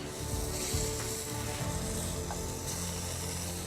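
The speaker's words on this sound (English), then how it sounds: "I'm going to cook them 4 minutes one side" Beef burger patties fry in a hot pan, a loud, constant sizzle with crackling spits and occasional clicks, close up and with no voices.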